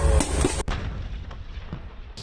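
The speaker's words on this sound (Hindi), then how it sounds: "गाजा में आईडीएफ के टैंकों की फायरिंग का वीडियो" An IDF tank firing in Gaza: one heavy, booming shot that cuts off sharply and is followed by a long, rumbling echo that slowly fades.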